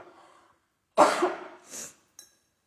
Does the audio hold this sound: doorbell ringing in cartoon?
no